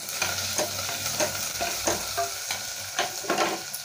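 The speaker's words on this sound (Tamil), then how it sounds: "இது நல்லா கிளறி கொடுக்கலாங்க" Ginger, garlic and green chillies, with coriander and curry leaves, fry in a pan and are stirred with regular scraping strokes over a constant close sizzle.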